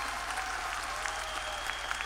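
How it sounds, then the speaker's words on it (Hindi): Applause from an audience at a stand-up comedy-style talk, steady dense clapping throughout, fairly distant and moderate in level with no talk over it. "जोरदार तालियां।"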